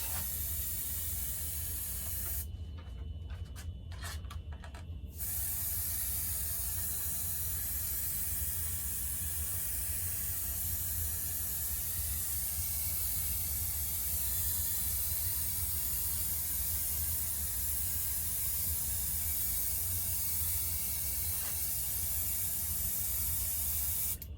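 A steady, continuous airbrush hiss spraying paint on an RC Hawker Tempest model, briefly sputtering early before settling into an even, unbroken spray.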